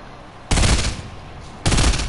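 Two loud bursts of gunfire from a burst weapon in Fortnite, each a dense rattling volley about a second long with a short gap between, close and prominent.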